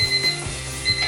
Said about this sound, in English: I think that's the timer for our pasta.